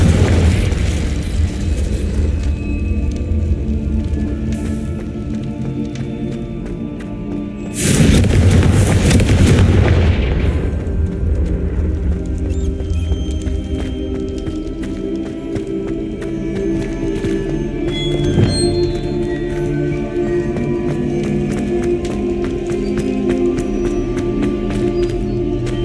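Explosive Confringo spell blasts in Hogwarts Legacy, a dense, loud run of booming impacts with one especially heavy burst near the start, over a continuous rumbling game background.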